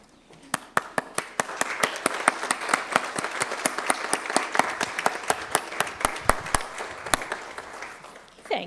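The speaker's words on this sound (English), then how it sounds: "give a round of applause to your support team" Graduates at a nursing pinning ceremony clap together, starting with a few sharp close claps and building into sustained applause with distinct nearby hand claps standing out, then thinning to scattered claps.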